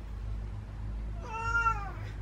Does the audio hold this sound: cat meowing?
yes